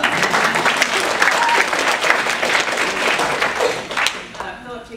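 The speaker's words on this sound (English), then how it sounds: "they all deserve rounds of applause" A crowd claps loudly and steadily, the applause thinning toward the end, with a few voices faintly audible underneath.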